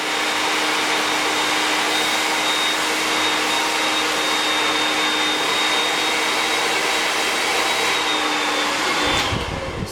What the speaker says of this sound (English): And now I'm just gonna hit it with a cold shot.